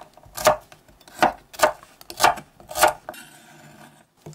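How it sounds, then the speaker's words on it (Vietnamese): Shallots and garlic chopped on a cutting board for pounding in a mortar: five sharp knife strikes in an uneven rhythm, close and clear, followed by a soft scraping rustle. "Đầu tiên mình cắt hành tỏi và cho vô cối giã nhuyễn."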